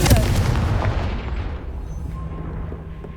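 A Confringo fire spell explodes in Hogwarts Legacy: a loud, close booming blast at the start, then a rumbling decay that fades over about three seconds, with no talk.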